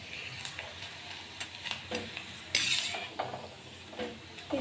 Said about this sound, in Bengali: তেলটাও কিন্তু গরম হয়ে গেছে, এবারে আমি তেলের মধ্যে দিয়ে দেবো।